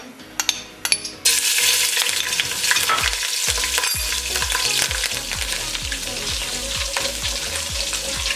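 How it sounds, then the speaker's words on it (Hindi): Ginger garlic paste drops into hot oil and bursts into a loud, steady sizzle, with a spoon scraping and stirring in a regular rhythm throughout. "अब इसमें अदरक लहसुन का पेस्ट डालेंगे और 30 सेकंड के लिए इसे भी फ्राई कर लेंगे"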